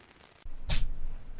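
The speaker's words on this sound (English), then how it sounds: "Just jumped up here and sneezed directly in the microphone." A single sharp sneeze bursts out very close to the microphone after a moment of quiet, followed by faint room noise.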